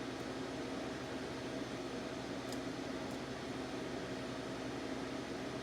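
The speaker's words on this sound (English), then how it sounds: "Let's jump to the air compressor." An air compressor runs to supply air assist for a K40 CO2 laser, a steady, faint broadband hiss and whir, continuous and unchanging, with no voices.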